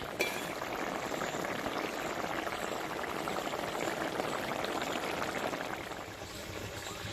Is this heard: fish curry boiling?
yes